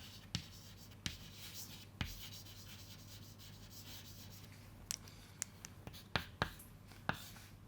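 Chalk or marker writing on a board during a physics lecture on electric charges, heard as scratchy rubbing strokes with several sharp taps and clicks spread through the clip, alone without talk.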